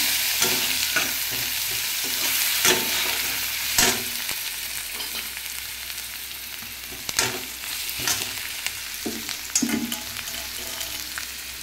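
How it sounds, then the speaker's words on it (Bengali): Spice masala with ginger frying in a pan for a vegetarian soybean dish, a continuous close sizzle with scattered scrapes and knocks of a spoon as it is stirred, no voices. "মশলাটাকে এবার কষিয়ে নেব।"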